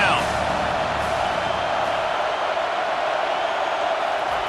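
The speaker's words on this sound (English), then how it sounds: "Decibels rising as the crowd gets behind this defense on 3rd down." Football stadium crowd on third down, a loud continuous roar of many voices swelling behind the defense, with a commentator talking over it.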